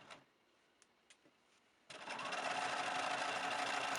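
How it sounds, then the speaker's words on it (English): Sewing machine running a zigzag stitch across a sweater just above the ribbing, quiet at first with a few soft clicks, then a steady close mechanical whir that continues to the end. "I am sewing the zigzag stitch right above that ribbing line."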